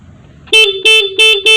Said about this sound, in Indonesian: Nah, ini klaksonnya saya pencet.